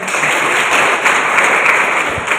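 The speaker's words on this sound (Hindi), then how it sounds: "एक बार जोरदार तालियां" Steady, continuous applause from an audience at a one-day women's capacity-building training programme with a state minister as chief guest, an even wash of clapping that holds at the same loudness throughout.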